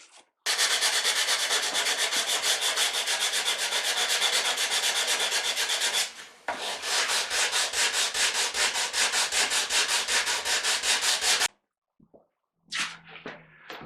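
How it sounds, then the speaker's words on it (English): Steady, loud rasping of 80 grit sandpaper rubbed back and forth on a wooden mandolin neck, continuous for several seconds, a brief pause, then more sanding before it stops. "to do this sanding job on a mandolin"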